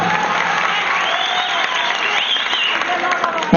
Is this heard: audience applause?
yes